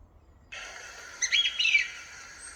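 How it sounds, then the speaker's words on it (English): A song thrush sings clear, bright repeated phrases, loud and fairly close, over faint background hiss after a quiet start. "Song thrush is an amazing song."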